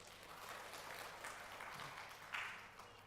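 A church congregation gives quiet, distant applause, a soft steady rustle of many hands clapping that lasts about three seconds with one slightly louder burst near the end.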